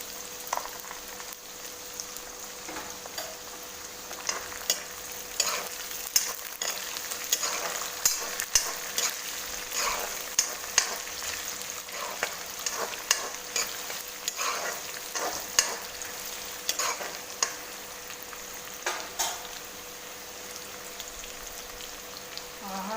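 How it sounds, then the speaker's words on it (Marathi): Onions frying in a pan for poha chivda, a steady bright sizzle with frequent stirring clicks and scrapes throughout, close and moderately loud with no talking. "चार कांदे घेतलेले आहे ते जरा ऊन दिलेलं आहे मी कांद्यांना"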